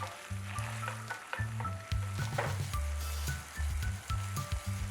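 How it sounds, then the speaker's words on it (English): Bay leaf, green cardamom, cinnamon stick, ginger garlic paste and blended onion paste sautéing in a pan for biryani gravy, a steady close sizzle with low bubbling and occasional stirring, no talk. "Let this saute for 30 seconds."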